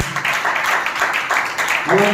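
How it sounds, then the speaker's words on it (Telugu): A church congregation claps loudly during a sermon, a dense sustained wash of applause lasting throughout with a preacher's voice speaking over it. "కొట్టు గట్టిగా చప్పట్లు."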